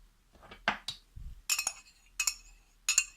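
Glass and utensils clink sharply several times while a hot agar-agar mixture is poured into a container for homemade beetle jelly, with short bright taps separated by quiet gaps.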